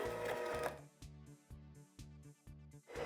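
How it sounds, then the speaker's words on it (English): An electric hand mixer whirs in short repeated bursts on low speed while beating brownie cookie batter, each pulse stopping and starting in a steady rhythm, close and alone. "today I'm going to be using an electric hand mixer"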